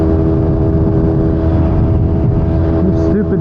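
A vintage Yamaha DT250 two-stroke motorcycle engine held at a steady, loud, droning whine while cruising, with strong harmonic tones and constant road and wind noise, close and unbroken.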